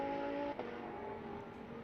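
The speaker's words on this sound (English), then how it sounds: "that white Ferrari just going through the shot there" A white Ferrari race car going past during a Trofeu GTS race at Portimão gives a steady, distant engine drone with a droning tone that eases slightly as it passes, fairly faint and with no voices.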